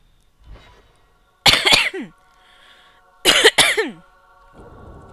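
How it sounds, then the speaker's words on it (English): Two bursts of harsh coughing, each a quick double cough, close and loud, with quiet pauses between. "Again, I apologize for the coughing"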